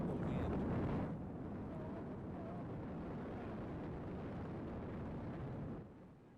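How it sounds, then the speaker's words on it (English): Steady roaring wind buffets the microphone throughout on an open field, a broad rumbling rush that eases slightly after the first second and fades near the end. "It does get windy out there on that field."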